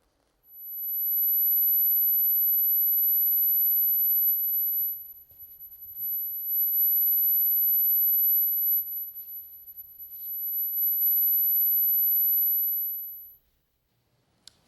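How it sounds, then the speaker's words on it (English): High-pitched 12 kHz sine tone played from a loudspeaker, a thin steady whine that holds, dips briefly twice as something passes in front of it, then resumes before cutting off. "I'll start by playing a very high frequency tone at about 12 kilohertz."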